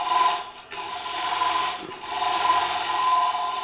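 A parting tool cuts into wood spinning on a lathe, giving a continuous, close scraping rasp that dips briefly twice as the tool eases off, with no talk.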